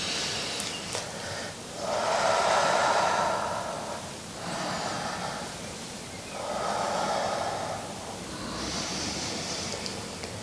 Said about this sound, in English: let's just take a couple of breaths together